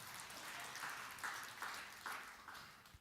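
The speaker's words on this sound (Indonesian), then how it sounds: "Beri tepuk tangan yang meriah." Congregation applause at a church service, a steady broadband clapping wash with a few louder bursts, moderately distant and fairly faint, no talk over it.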